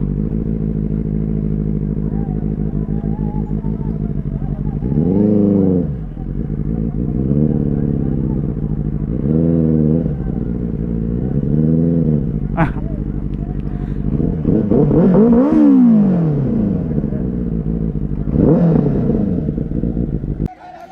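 Benelli 600i motorcycles with loud aftermarket exhausts ride together, a deep throbbing engine drone rising and falling through repeated throttle revs, loud and close throughout until it cuts off abruptly.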